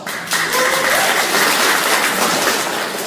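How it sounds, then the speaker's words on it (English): A crowd applauding at a business presentation, breaking out in loud, dense clapping after a brief quiet start and continuing steadily for about three seconds. "So I think that's worth a round of applause."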